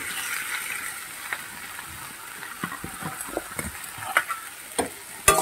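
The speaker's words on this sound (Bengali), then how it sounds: "সবজির সঙ্গে মশলাগুলোকেও ভেজে নেব।" Vegetables frying with spices in a pan, stirred now and then; a soft steady sizzle runs throughout, broken by scattered clicks and scrapes of a utensil against the pan, fairly close and moderately quiet.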